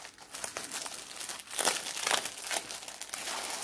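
Crisp crinkling of stiff, glossy paper from the back of a cross-stitch pattern, close up, in irregular bursts of rustling and crackling with no talking.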